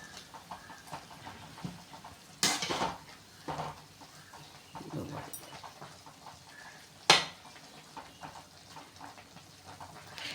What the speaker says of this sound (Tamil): நல்லா நம்ம கிண்டி விட்டுக்கலாமா.